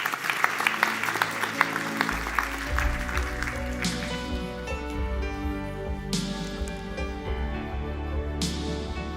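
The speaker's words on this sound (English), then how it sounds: "Please give him a round of applause." An audience at a launch event breaks into sustained applause welcoming a speaker, loud clapping throughout with a few louder swells.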